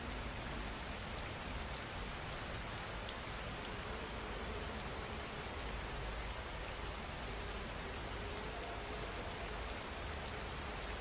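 Steady, soft rainfall pattering on surfaces, an even continuous hiss with no voices or thunder, calm and unbroken throughout.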